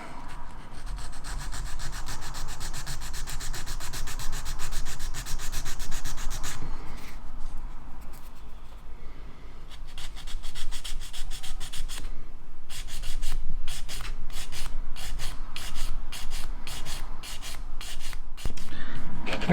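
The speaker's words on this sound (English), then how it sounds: "Nice coarse sanding stick." A coarse sanding stick wet-sands plastic model kit parts for a Harrier build, with close, continuous rubbing that breaks off briefly midway and then returns as choppier back-and-forth strokes.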